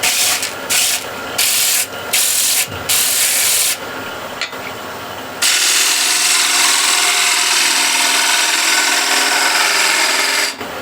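Harsh, loud scraping from a gouge thinning a piece of wood on a lathe, in short chopped bursts at first and then a long steady run, close up with no talking.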